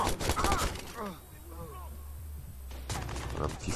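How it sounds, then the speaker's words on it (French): Sniper gunfire in the Watch Dogs video game comes as sharp, distant cracks at the start and again near the end, with a voice talking in between. "Là, c'est des snipes qui nous shootent."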